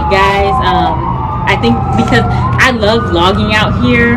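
An ambulance siren wails on the street outside, its rising and falling tone running steadily throughout beneath close-up talking, with faint traffic in the background.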